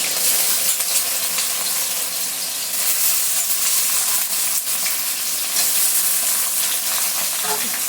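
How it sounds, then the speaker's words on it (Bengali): Taro stolons sizzle loudly in a hot pan over high heat, with nigella seeds in the oil, a continuous bright crackling hiss with occasional clinks of stirring. "তারপর লতিটা দিয়ে লতিটা একটু ভাজতে সময় দেব, হিটটা বাড়ানো থাকবে"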